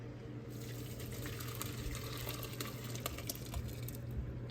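Hot strawberry syrup poured through a mesh colander into a bowl, a steady close liquid trickle and splash running continuously over a low hum.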